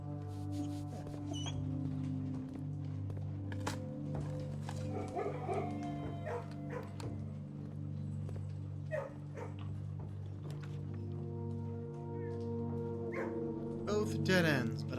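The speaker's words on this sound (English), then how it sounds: "Puppy." A small puppy in the video game Blue Prince yips and barks in short bursts over a steady musical drone, with someone talking over parts of it.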